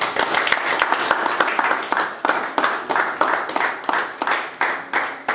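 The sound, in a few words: church congregation applauding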